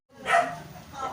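A single short bark from a dog rings out close by at an eatery, followed by a faint trailing yelp.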